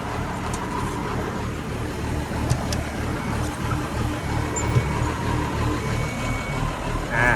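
A Komatsu WA350-1 wheel loader's engine runs steadily nearby, a continuous low rumble with slight surges and a few faint clicks throughout.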